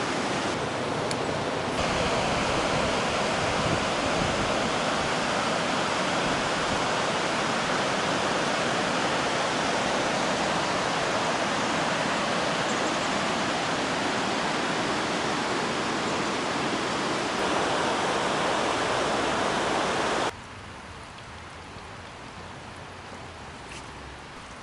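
A stream rushes over rocks at Capilano in Vancouver, a loud, dense, unbroken roar of water that drops abruptly to a softer level near the end, with no voices.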